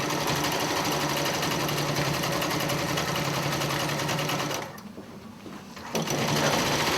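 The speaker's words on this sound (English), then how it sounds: "this is where I'm sewing the pocket that we turned it right together" A sewing machine stitches a quilt pocket in a steady, fast, continuous whir, briefly stopping partway through before starting up again, close and clear with no talking.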